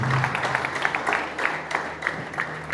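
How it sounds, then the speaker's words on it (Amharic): Applause from a church congregation giving glory to God during a prophetic service, a steady crowd of clapping hands at moderate distance with some scattered sharper claps and faint voices. "ለእግዚአብሔር ክብር አጨብጭቡለት"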